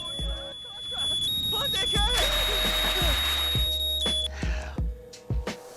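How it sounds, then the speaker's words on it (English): A smoke alarm goes off inside The Sims 2, its repeated high electronic beeps sounding steadily through busy game sounds and music, loud and continuous across the clip. "I bought a fire alarm and it saved my life."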